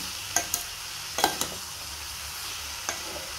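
Ridge gourd and dry prawn curry sizzles softly in a pan, with a few sharp spoon scrapes and knocks against the pan scattered over a quiet, steady background.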